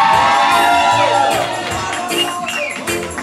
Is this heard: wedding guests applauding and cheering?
yes